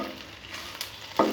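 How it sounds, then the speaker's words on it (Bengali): Seekh kabab frying in a pan on a gas stove, a soft close sizzle with a couple of brief sharper spatters as the pieces are turned. "আর আমি দুই পাশে উল্টে পাল্টে ভেজে দেখাচ্ছি।"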